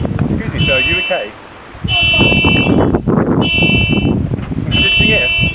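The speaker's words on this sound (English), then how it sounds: "It's just the horn." A car horn and alarm buzz in repeated loud, steady bursts, with short pauses between them, while people talk over the noise.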